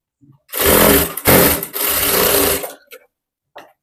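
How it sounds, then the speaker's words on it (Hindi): A sewing machine runs in two close, loud bursts of rapid stitching on blouse fabric, with a short break between them, then a few faint clicks and handling sounds as it stops. "यहाँ पे कच्चा चारों तरफ कर दी हूँ।"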